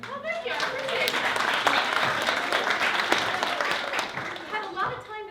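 An audience claps after a workshop performance of a new musical, a dense burst of applause from a moderate-sized crowd that swells and then thins out, with a few voices faintly underneath.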